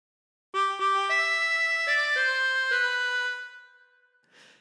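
A harmonica plays a phrase of the Star Spangled Banner: a clear sequence of sustained reedy notes stepping in pitch, close and steady, fading out at the end with a breathy noise.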